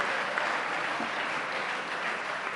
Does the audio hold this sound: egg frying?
no